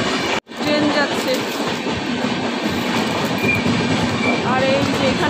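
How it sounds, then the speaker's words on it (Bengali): A train passes close by with a loud, steady rumble and rattle of wagons that fills the whole stretch, with a voice faintly underneath. "দেখো ট্রেন যাচ্ছে"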